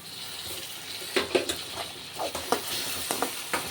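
Onion and tomato fry in a pan with a soft, steady sizzle, broken by several short stirring scrapes and clinks of a utensil, fairly quiet and close.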